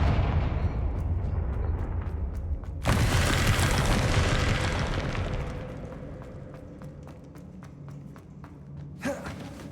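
A Confringo spell in Hogwarts Legacy detonates with a sudden loud boom that rolls and fades over several seconds, followed by a second smaller burst near the end, with light game effects around it.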